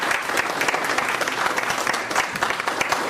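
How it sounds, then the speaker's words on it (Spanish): An audience at an award ceremony honoring forty years of service claps steadily, a dense, even wave of applause that fills the room throughout. "lo cual amerita un nuevo aplauso para su hombre"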